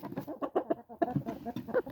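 Hens and a rooster, including a Barred Rock, clucking and chattering close by in a busy, overlapping series of short calls while being fed.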